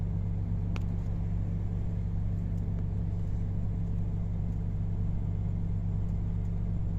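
Trucks driving inside a container port in the Netherlands make a continuous low, rumbling engine drone that stays steady and fairly close throughout, with no voices.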